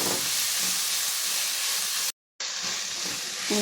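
Potato pieces sizzle and fry in hot oil in a pan while aloo corn pulao is cooked, a steady loud hiss running through with one brief cut to silence partway.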